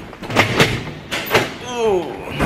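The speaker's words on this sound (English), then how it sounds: "These doors are heavy." Heavy school doors thud and swing amid a breezeway walk, several dull knocks and a creaking slide mixed with nearby talking voices.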